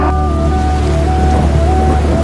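Steady, close rain falls without a break, a dense wash of drops that fills the whole stretch with no voices over it.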